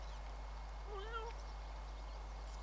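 A cat meows a couple of short, wavering times outdoors on stubble fields, faint against a steady low hum and background noise.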